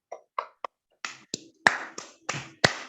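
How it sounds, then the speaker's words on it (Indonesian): Children in an online class clap for presenting groups: a sparse run of about nine sharp, separate claps spaced unevenly, faint and thin through a device microphone, with no talk. "Tepuk tangan untuk masing-masing kelompok anak-anak."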